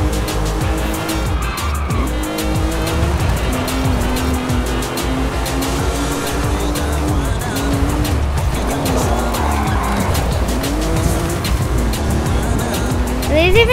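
A Porsche races in Forza Horizon 5, its engine roaring loud and steady throughout with rising and falling gear shifts and squealing tires, while a person talks over it.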